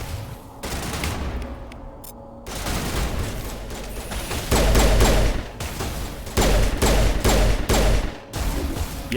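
Rapid gunfire bursts in the Mass Effect video game, with a sniper rifle among the shots, loud and close with repeated sharp cracks and booms, no talking.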